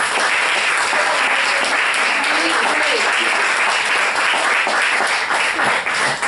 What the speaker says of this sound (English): Let's give all of our ladies a round of applause.